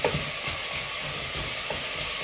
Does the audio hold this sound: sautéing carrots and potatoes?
yes